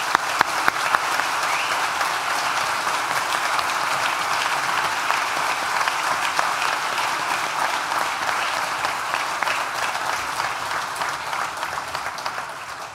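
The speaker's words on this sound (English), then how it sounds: "please join me once again for a big, rousing, collective round of applause" A large audience at a university graduation ceremony for the Nottingham Institute of Education claps steadily in a hall, a sustained, even roar of applause with no pause.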